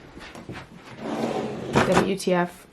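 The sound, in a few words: drawers being opened or closed while organizing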